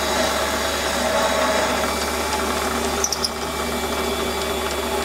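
Deep drilling a fire piston bore to about 85 mm, ten times the drill diameter, makes a constant loud machine whir with a motor hum. One small clink sounds about three seconds in.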